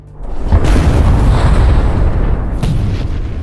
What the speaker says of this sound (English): The lead tank is immobilized by an explosion.